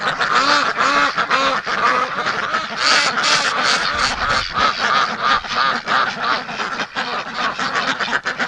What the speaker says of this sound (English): the little duckies